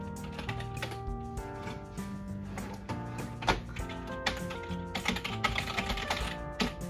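Keys clatter in quick, irregular bursts on the keyboard of a refurbished Dell OptiPlex 780 desktop PC, fairly close and steady over about seven seconds, layered over a constant tonal background hum.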